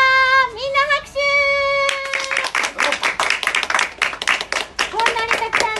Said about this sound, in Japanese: みんな拍手。